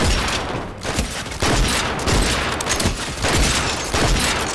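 Pistol fire in Fortnite, loud and relentless, with shots and bangs piling up into a near-continuous barrage.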